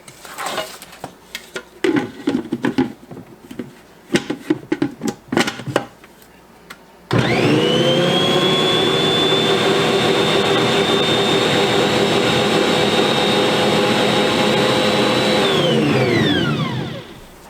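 A stand mixer starts mixing bread dough made with warm water and honey, giving a loud, steady motor whine that runs for about ten seconds and then winds down. Scattered clinks and handling sounds come before it starts.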